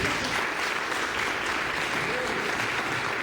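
Steady, dense applause from a church congregation fills the space evenly, loud and continuous throughout with no break.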